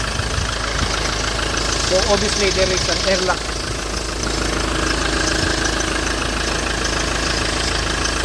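A 2007 Ford Transit engine running after troubleshooting of a loose fuel filter and an air lock, a loud steady close idle throughout, with someone talking over it.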